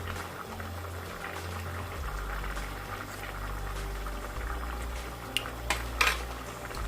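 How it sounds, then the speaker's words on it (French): Fish pieces simmering in tomato sauce in a pan, a soft steady bubbling close by with a few light clinks of utensils toward the end, no voices. "Donc, je laisse encore mijoter."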